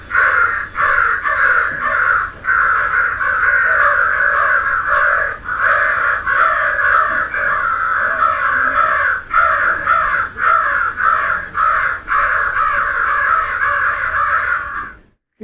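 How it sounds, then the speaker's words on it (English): A crow gives harsh, rapid alert or scolding caws, a loud close series of repeated calls running almost continuously for about fifteen seconds with no talking. "This alert, or warning call, or scolding call, is very close to being a mobbing call, summoning all crows in hearing distance to help deal with the danger."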